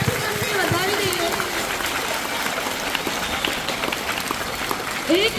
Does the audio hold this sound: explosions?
no